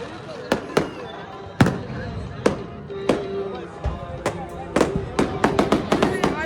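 Firecrackers and fireworks bursting at the Golden Temple during Baisakhi celebrations, a run of sharp cracking bangs at irregular intervals, growing quicker toward the end, over a bed of crowd noise and nearby voices.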